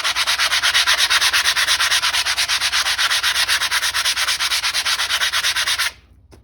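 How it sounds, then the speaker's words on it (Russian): Sandpaper rubbing back and forth over the back of a wooden towel hanger, a steady rhythmic scratching of even, loud strokes for about six seconds before stopping abruptly. "я сейчас прошлифую слегка заднюю сторону, но это чисто, чтобы просто она была гладенькая"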